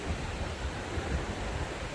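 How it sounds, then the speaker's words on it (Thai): Sea waves wash onto a beach in Vietnam in the morning, a steady broadband roar of surf with low rumbling, continuous and fairly loud throughout. "มาเที่ยวทะเล"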